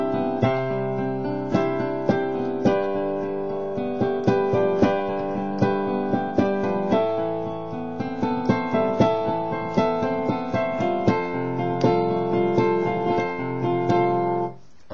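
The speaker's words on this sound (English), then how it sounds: "So that's another way to improvise those chords." Solo piano improvising over chords, with an offbeat rhythmic feel and steady repeated chord attacks played alone at a moderate, even level for the whole stretch, stopping cleanly at the end.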